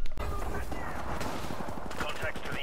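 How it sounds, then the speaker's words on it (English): Rapid gunfire crackling from Call of Duty: Modern Warfare Remastered in a steady stream of dense bursts, with excited voices shouting over the shooting. "They shooting me in the back"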